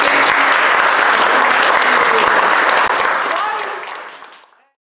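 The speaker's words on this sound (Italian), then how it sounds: "io vorrei fare un applauso a Claudio Galeazzi, perché c'ha la febbre, e" An audience at an outdoor summer evening event in Pontinia gives loud, dense applause that holds steady for several seconds, then fades out and stops.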